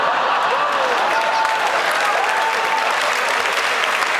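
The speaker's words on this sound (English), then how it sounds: "Five people clapping." A few people clapping in the crowd at a comedy show in Singapore, steady moderate applause lasting several seconds, with a faint voice running beneath it.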